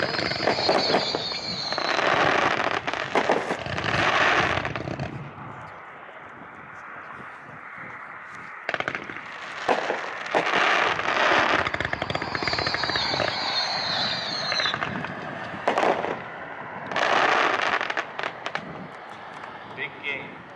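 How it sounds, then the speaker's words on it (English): A 168-shot, 500-gram Big Game firework cake fires in loud bursts of rapid crackling shots and whistling lifts, several volleys with short lulls between them, heard at an outdoor fireworks demo show with a crowd. "the highly anticipated Big Game is a 168-shot, 500-gram packed"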